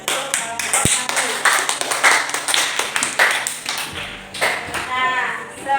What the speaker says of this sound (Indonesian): tepuk tangan untuk kelompok tari